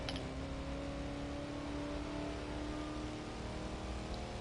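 A car engine in The Crew 2 video game drones steadily through the whole stretch, a continuous mid-pitched hum with faint tonal whine and no breaks.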